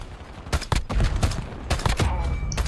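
Rapid gunfire in Black Ops 6 Zombies rattles out in quick bursts of sharp, close shots, several volleys across a few seconds, with no one talking over it.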